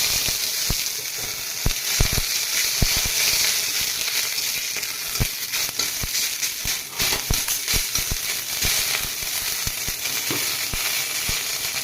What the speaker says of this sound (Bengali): তো শুকনো লঙ্কা ফোড়ন দিলাম, পাঁচ ফোড়ন দিলাম,